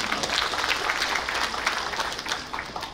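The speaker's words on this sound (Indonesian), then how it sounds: "Tepuk tangan untuk kita." Audience applause at a rector's handover ceremony at an Islamic university in Banten, a steady wash of clapping that fades slightly toward the end.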